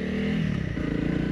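A motorcycle ridden off-road through mud on a first trail ride, its engine droning steadily and close with a low, throbbing tone and slight pitch shifts as the throttle is worked.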